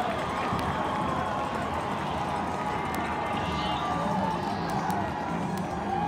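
A college lacrosse crowd at a Maryland versus Michigan men's game roars after a goal, a dense, steady wash of cheering from the stands that holds without letup, with an announcer talking over it.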